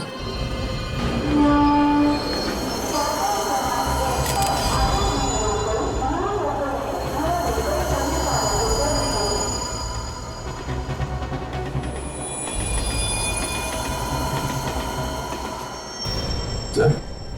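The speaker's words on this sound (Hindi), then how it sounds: "पता लगाओ ये ट्रेन आई कहां से है" A train passes along a railway in a TV crime drama scene, a loud, continuous rumble of wheels on track with metallic squeals and a sharp clank near the end.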